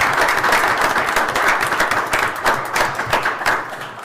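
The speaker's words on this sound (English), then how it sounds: "So I think he certainly deserves a round of applause as well." A city council meeting audience applauds the Northern Kentucky Drug Strike Force director with sustained, even clapping from many hands filling the room, no talk heard.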